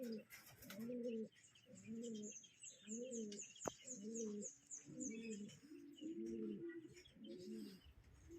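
Racing pigeons cooing after a training release in the Philippines, a steady repeated series of soft low coos with faint chirps and a brief sharp click, close up and without talk.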